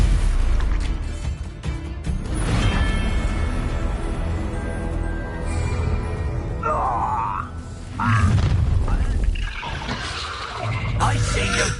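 Bombarda spell explosions and magical combat in Hogwarts Legacy, with booming bursts, crashes and grunts layered over spell effects, fairly loud and close with a brief whooshing rise midway.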